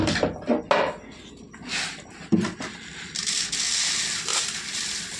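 Boiled potatoes mashed by hand, giving close, wet squishing and soft crunching squeezes in an uneven rhythm, with faint kitchen clatter and hiss behind.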